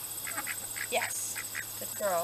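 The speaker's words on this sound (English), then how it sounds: "Now you can hear that there's ducks in the background" Ducks quack repeatedly in the countryside background, a scattered series of short nasal calls at moderate distance, while a person speaks briefly over them.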